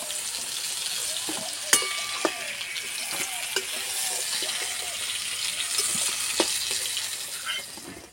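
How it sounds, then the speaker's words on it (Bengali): Sliced ridge gourd fries in oil in a pan with a steady, close sizzle, broken by scattered clicks and scrapes as it is stirred. "ঝিঙে বেশি ভাজবো না, অল্প একটু ভেজে নেব।"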